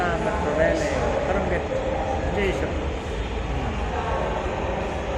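Low rumbling hum of a metro train at Farmgate metro rail station, steady and close, with people talking over it.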